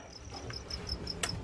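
Feeder crickets in a pet's cage chirping in a regular pulsing rhythm of short high trills, moderately close and fairly soft, over a faint background hum, with one brief sharper sound near the end and no talk.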